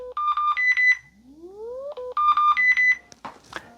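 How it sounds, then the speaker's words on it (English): A TicWatch Pro 5 smartwatch alarm beeps in rapid repeating bursts, broken by a rising synthetic sweep, then the beeping pattern resumes; loud and close, with no talking. "Can you hear that alarm noise?"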